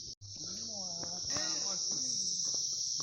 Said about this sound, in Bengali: পুরো জঙ্গল, চারদিকে ঝিঝি পোকার আওয়াজ।